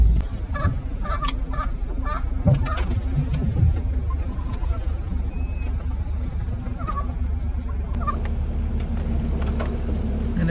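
Outdoor ambience with a few honking, gobbling calls from two turkeys walking along a roadside, scattered across the scene over steady background noise.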